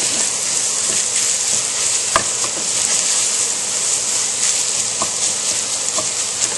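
Italian sausage with garlic and onions frying loudly in a pan for lasagna, a dense steady sizzle with occasional sharp pops and crackles.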